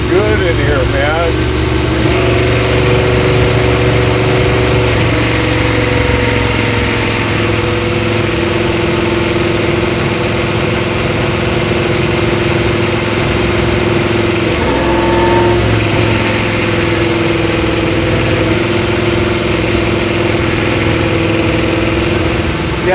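An IndyCar engine fitted in a Martini Mustang Fastback idles loudly and roughly, with the pitch wavering and rising briefly now and then. People talk over the engine from inside the car.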